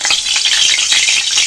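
Hot oil in a wok crackles and sizzles loudly, a dense hissing spatter with fine popping bursts, close and continuous with no talking.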